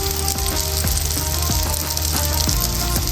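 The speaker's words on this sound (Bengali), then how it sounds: "মাছগুলো সুন্দর করে লাল লাল করে ভেজে নিচ্ছি" Fish frying in hot oil in a home kitchen gives off a loud, steady sizzle close up, with occasional clinks and stirring knocks underneath and no talking.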